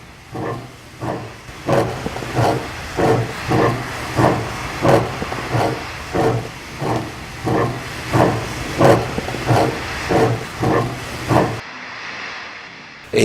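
Steam locomotive Nora chuffs out of the shed in a regular, evenly spaced rhythm of loud exhaust beats with hissing steam between them, about a dozen strong puffs, then the sound cuts off abruptly near the end.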